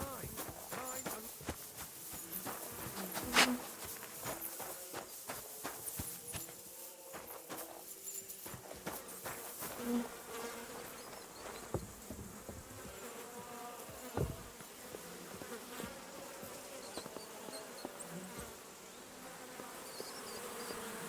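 Bees buzz continuously and fairly faintly in the video game Kingdom Come: Deliverance II, with footsteps and occasional sharp sounds scattered through the steady drone.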